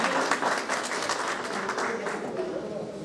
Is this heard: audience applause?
yes